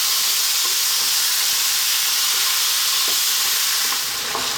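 Sliced tomato and bell peppers fry in a pan for an Indian vegan capsicum dish, giving a steady, close, continuous sizzle and hiss with faint crackles throughout and no talking.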